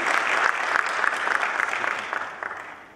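Audience applause at an economics talk on venture capital and private equity, a dense burst of clapping with a few sharp individual claps, strong at first and tapering off gradually toward the end.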